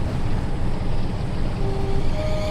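A Class 47 diesel locomotive engine in Train Sim World 6 roars at full throttle, a loud, continuous, dense rumble with a steady droning texture and a faint rising tone near the end.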